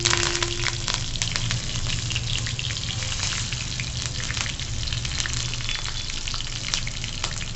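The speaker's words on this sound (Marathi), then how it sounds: "राई चांगली तडतडली की मग आपण हिरवी मिरची घालू" Mustard seeds, green chili and curry leaves crackle in hot oil while a tempering is made for ragi dhokla: a dense, continuous frying sizzle with sharp pops throughout and no talking.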